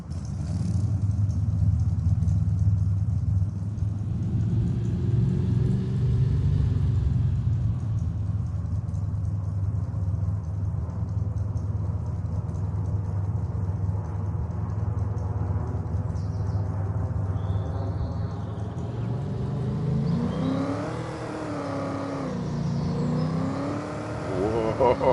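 A truck engine in Farming Simulator 25 idles with a low, steady rumble and then revs up near the end in a couple of rising and falling surges, loud and close.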